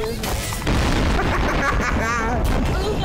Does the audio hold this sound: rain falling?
no